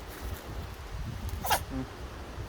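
A single short, sharp burst like a small sneeze, quick and close, against quiet background rustling.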